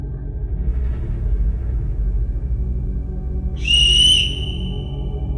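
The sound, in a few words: loud whistle echoing through a building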